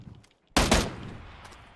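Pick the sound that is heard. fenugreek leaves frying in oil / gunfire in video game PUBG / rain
gunfire in video game PUBG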